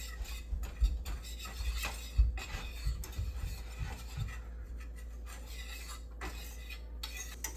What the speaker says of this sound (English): we're gonna whisk this around and let that absorb all of the butter